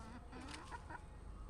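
Hens clucking in a backyard coop, a few soft calls rising over steady low background noise, fairly close but quiet, with no talking.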